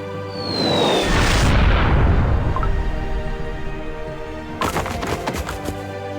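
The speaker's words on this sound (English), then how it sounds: "The ground! The rocks are shooting up into the sky!" Rocks burst up from the ground in a video game as an ancient dragon hurls massive boulders: a loud, deep rumbling boom swells over the first two seconds and rolls on, then sharp crackling impacts break out near the end.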